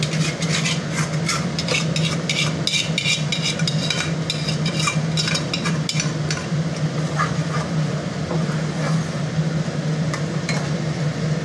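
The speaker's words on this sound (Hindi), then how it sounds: "ये, ये आ, तड़का है हम इसको भी डाल देंगे इस दाल में" Tadka tempering being poured into dal makhani in a home kitchen, a steady sizzle with clinking of a metal pan and spoon stirring throughout, no voices.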